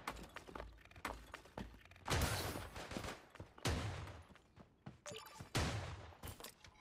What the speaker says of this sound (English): Oh, someone's shooting me!